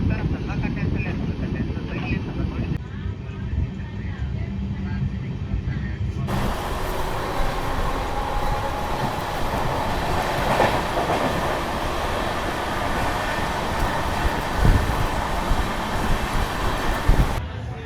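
An Amrit Bharat Express running from Secunderabad toward Renigunta Junction gives a loud, continuous rumble and rattle of wheels on rails, with rhythmic clickety-clack and a voice heard intermittently over it.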